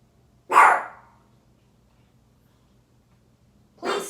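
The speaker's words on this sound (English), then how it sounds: "She's barking because my stepmom just got home." Ivy, a pet dog, gives a single loud, close bark, then after a few seconds of silence lets out a second bark, indoors with nothing else heard.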